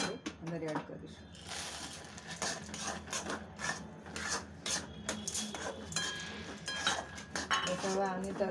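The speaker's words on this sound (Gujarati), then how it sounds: "હવે આપણે તરત જ એમાં દાળિયા એડ કરીશું, થોડા થોડા કરીને" Roasted chickpeas (daliya) added a little at a time to caramelized jaggery in a pan for chikki, with a soft, close clatter and scrape of a metal spoon stirring against the pan, while a voice talks quietly.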